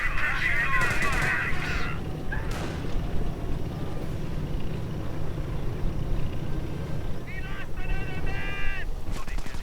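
A Panther tank's cannon booms amid distant gunfire and battle noise in a World War II strategy game, with a few chirping interface tones near the end.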